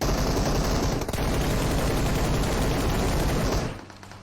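Dense, sustained automatic gunfire in the PUBG Mobile battle royale game, a loud continuous burst of rapid shots running for about three and a half seconds before cutting off and fading.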